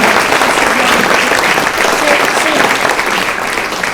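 Sustained applause from an audience fills the whole stretch, a dense steady wash of clapping with no gaps.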